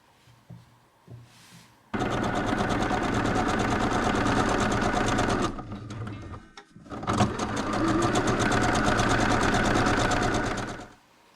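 A sewing machine stitches the shoulder seams of a blouse in two long runs of close, rapid, steady mechanical whirring, with a short pause between them and quiet handling sounds at the start.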